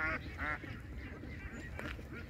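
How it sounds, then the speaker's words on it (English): Faint honking quacks from a large flock of ducks crowding a road in rural Vietnam, with several short calls rising over steady background rumble. "I've never in my life seen so many ducks"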